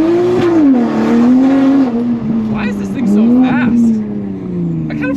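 A Mk5 Toyota Supra engine revs and pulls steadily, its pitch rising and falling with gear changes, loud and close, with faint tire noise.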